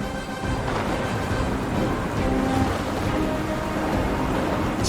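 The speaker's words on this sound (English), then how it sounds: "Got a great place to stay out of rain." Steady rain pours down with low rumbles of thunder rolling underneath, a dense, constant wash of sound with no voices.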